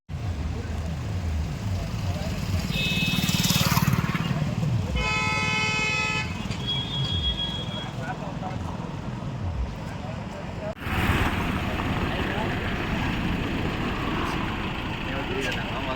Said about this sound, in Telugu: కార్లు వస్తున్నాయి